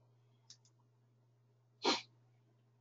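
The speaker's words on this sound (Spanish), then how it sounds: "Creo que voy a estornudar." A single sneeze bursts out near the mic around the middle, preceded by a couple of faint clicks, against a low steady hum with no talking.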